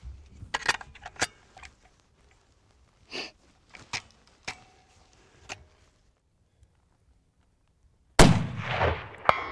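Rare rifle fired at a target 288 yards out, one sharp loud crack with a rough burst of blast and rumble following, after several quieter scattered clicks and handling noises.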